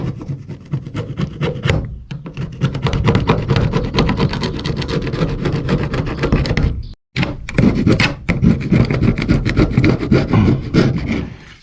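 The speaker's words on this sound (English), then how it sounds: "Get any silicone cleaned off the bottom real good, or else the gasket won't stick." Old silicone is scraped off the bottom of a 1993 GM Silverado truck canopy in rapid, rough back-and-forth strokes, loud and close, with a couple of brief pauses between bursts.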